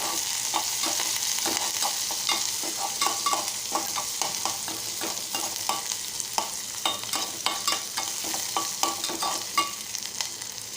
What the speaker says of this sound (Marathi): कढीपत्ता व्यवस्थित ढवळून घेणार आहोत